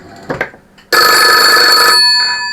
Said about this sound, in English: And there you go, you can hear it ringing.